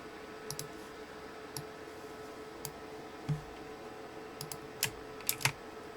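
Quiet, sparse clicks of a computer keyboard and mouse while text is pasted, a handful of sharp isolated taps scattered over a faint steady background hum.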